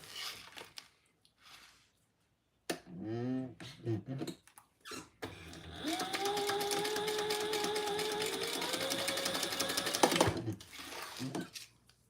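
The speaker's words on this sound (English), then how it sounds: "we're going to sew that together at the seam allowance" A sewing machine stitching fabric together along a seam, starting after a few brief handling and squeaking noises and then running as a steady whirring hum for about five seconds before stopping, with faint speech in places.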